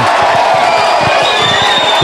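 Spectators at a colts rugby union grand final between Wanderers and Merewether Carlton roar and cheer in a loud, sustained burst, with a commentator's voice riding over the crowd noise.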